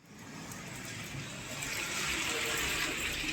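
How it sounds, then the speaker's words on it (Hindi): Steady rain has been falling outside since the night under a dark, cloudy early-morning sky, making a continuous, even hiss that swells slightly louder toward the end, with no talking. "रात से बारिश हो रही है"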